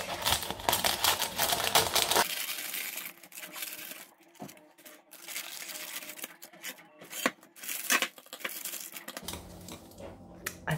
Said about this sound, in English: Take some scissors and take off this excess